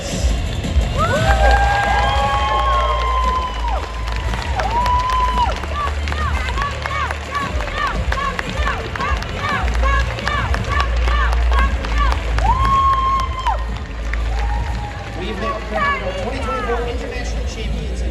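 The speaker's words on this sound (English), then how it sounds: "let's give a final cheer for our 2024 Pokemon European" Audience cheering at a Pokémon European trading card game championship, a steady crowd roar under an announcer's amplified voice, with some whoops rising through the noise.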